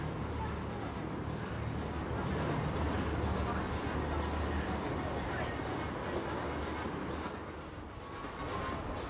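Continuous rumbling roar of a train crossing a bridge over the Moscow River in Moscow, with a steady rolling clatter, fairly distant, under occasional talking.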